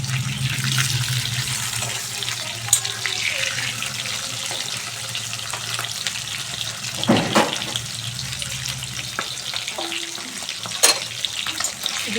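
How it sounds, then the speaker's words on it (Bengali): Eggs turned over to fry on the other side in hot oil make a steady hissing sizzle, broken by occasional utensil clinks and scraping stirs; no talking. "ডিম এক পিঠ ভাজা হয়ে গেছে, আর এক পিঠ ভেজে নিচ্ছি।"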